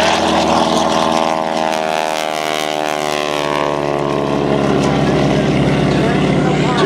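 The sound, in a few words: propeller warbird aircraft taking off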